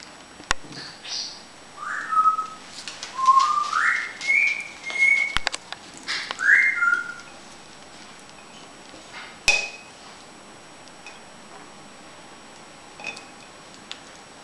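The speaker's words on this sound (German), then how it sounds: "Du weiter pfeifen, Pauli." Whistled tune of rising and falling notes, several short phrases in the first seven seconds, moderately near, with faint clinks and knocks in a quiet room afterward.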